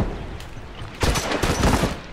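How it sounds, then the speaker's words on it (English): Burst rifle fire in The Last of Us multiplayer game, a loud cluster of rapid shots arriving in quick bursts after a quieter moment, close and sharp. "Oh, a fucking burst rifle."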